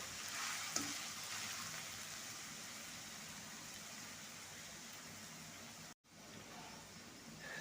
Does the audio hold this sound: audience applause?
no